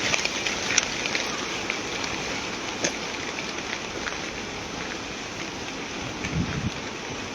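Steady outdoor rain patters on leaves and surfaces in a park, a continuous even hiss with a few louder drips standing out, no voices over it.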